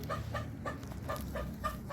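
A Silkie bantam chicken clucks in a steady rhythm, five or six soft, close clucks in quick succession with no talking.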